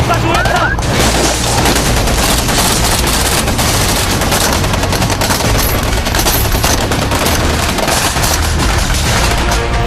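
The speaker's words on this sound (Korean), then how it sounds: "숲은 포영과 총성으로 뒤덮인다." Bursts of automatic gunfire and explosions crackle continuously through a forest during military combat training, loud and dense throughout with no pause.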